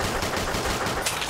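Rapid automatic gunfire from a Call of Duty Zombies video game, a dense continuous burst of loud, close shots with no pauses and no talking.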